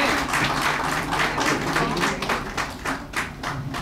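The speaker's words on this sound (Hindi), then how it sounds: "जोरदार तालियां आप लोग बजाते रहें।" Applause from an audience at an excellence recognition ceremony for students in Lucknow, a steady rhythmic patter of clapping that carries on throughout, moderately loud and continuous with a few sharper taps standing out.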